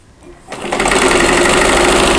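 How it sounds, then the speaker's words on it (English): A sewing machine runs steadily as it stitches quilt fabric for a chain link quilt block. It starts from quiet and rises to a loud, continuous close-up whir that holds for about two seconds, with no talk. "now I'm going to sew these into 4 patches"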